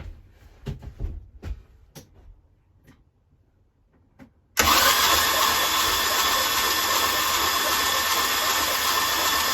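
A Sea Ray boat engine that sat through winter with wet, fouled plugs suddenly bursts into loud, steady cranking or running after a few quiet clicks and handling noises, the roar holding constant to the end.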